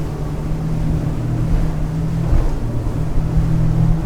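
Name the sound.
Fjord 41XP boat with Mercury V12 outboards at full speed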